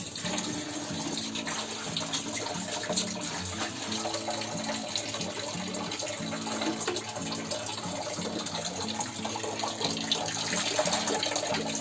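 Safflower greens are rinsed under a running tap, a steady close rush of water with small splashes and handling sounds throughout, no voices.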